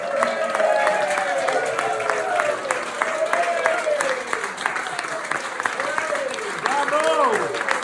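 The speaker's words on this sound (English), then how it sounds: "Rousing round of applause for our captain, our president, and our man of the hour," Sustained audience applause at a tribute gathering, a dense steady wash of clapping under which voices and musical tones sweep up and down throughout.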